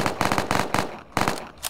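SMG bursts in a Roblox zombie game, rapid firing in three quick volleys separated by brief pauses, loud and close, with no one talking.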